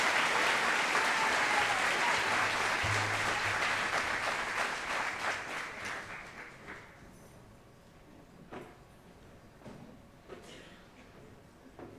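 A crowd at a senior recognition ceremony applauds the Job Connections class of 2022, loud and steady at first, then fading after about six seconds to scattered claps and quiet room noise.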